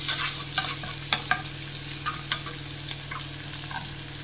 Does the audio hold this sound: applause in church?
no